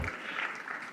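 Audience applause at a cooperative conference's valedictory session as a memento is presented, a dense steady clapping wash for about a second.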